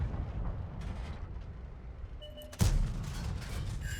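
A Hetzer tank's main gun in World of Tanks fires a single loud, sudden boom that decays over a couple of seconds, following a stretch of low engine rumble and faint mechanical clicks.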